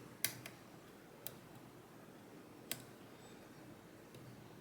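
Faint, sharp clicks from the pins of a Lips Octro lock being picked, four or five isolated ticks spaced irregularly over a quiet, hissy background.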